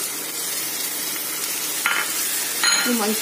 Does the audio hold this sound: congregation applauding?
no